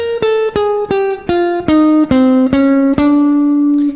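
A clean jazz guitar plays eight plucked notes in an even rhythm, stepping gradually downward in pitch with a chromatic passing tone, then the last note rings out alone.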